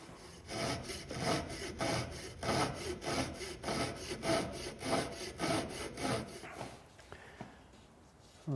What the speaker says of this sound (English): I'm going to split this essentially resaw it in a way down to here